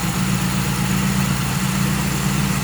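A 1972 Dodge Dart's Mopar 318 small-block V8 with a rebuilt Edelbrock carburetor idles steadily with the choke still well on, a loud, close, continuous low rumble that holds even throughout.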